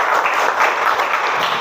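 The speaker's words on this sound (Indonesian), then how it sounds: "Tepuk tangan buat Sari" Short burst of classroom applause for a student, many hands clapping together in a dense, loud, slightly pulsing patter.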